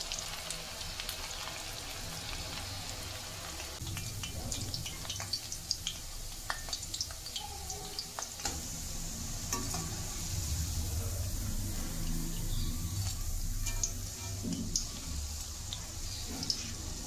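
Chakli murukku frying in hot oil, a steady low bubbling sizzle with scattered faint pops and crackles that runs unbroken from start to finish, quiet and close.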